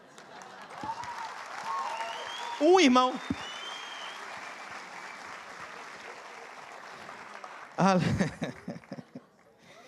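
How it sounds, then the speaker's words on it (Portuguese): Congregation applause at a church service, a steady layer of clapping running under a preacher's amplified voice, with louder bursts of speech and a brief word spoken over it. "Um aplauso"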